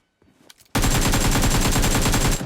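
An SKS rifle fires in a shooter video game, a loud, close, rapid string of shots lasting under two seconds after a brief quiet lead-in.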